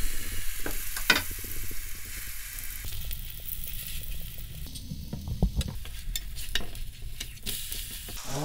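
Buckwheat and kimchi pancake batter sizzling in a hot pan, a steady close frying crackle with occasional sharper pops and scraping touches, no talk.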